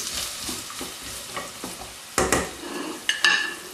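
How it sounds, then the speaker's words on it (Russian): Vegetables and chicken gizzards fry in a multicooker with an open lid, sizzling steadily close by, with spoon scrapes and louder clatters as pieces are stirred and added. "Можно сразу положить и желудки, чтобы это все обжаривалось"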